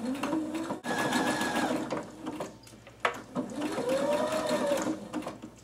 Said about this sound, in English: Put that back under our sewing machine. Just stitch that hole shut